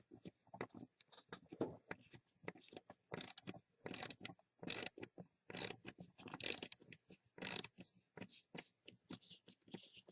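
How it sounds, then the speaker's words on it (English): A small cordless clutch screwdriver drives screws while its clutch slips, giving rapid bursts of ratcheting clicks that come in uneven clusters at close range, with no talk. "You got to adjust the clutch on this screwdriver. This is a clutch screwdriver, despite its small size."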